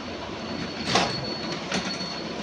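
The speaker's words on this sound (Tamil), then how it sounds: "இப்போ அதுவே ஊசியை இறக்கி வச்சு ஓட்டுறேன்." A Singer 9900 sewing machine runs continuously with its needle lowered, giving a steady, fairly quiet mechanical whir with faint rhythmic clatter.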